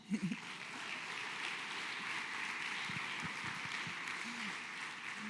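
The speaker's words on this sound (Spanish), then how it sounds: "damos un aplauso al Señor por las mamás" Church congregation applauding during a Spanish-language service, a steady broadband wash of clapping held at moderate level for several seconds, with brief murmurs of voices beneath it.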